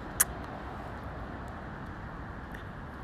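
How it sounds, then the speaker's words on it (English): A city street at night carries a steady, distant rumble of passing traffic. A single sharp click sounds near the start, then the low wash continues evenly. "wait for a lot of traffic to come by that street"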